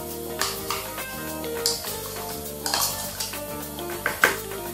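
Butter, sugar, lemon zest, a whole egg and salt are worked into cookie dough in a bowl, giving repeated clinks and scrapes of a utensil against the bowl over a steady tonal background.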